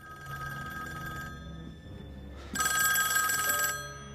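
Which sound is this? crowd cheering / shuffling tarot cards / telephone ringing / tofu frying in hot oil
telephone ringing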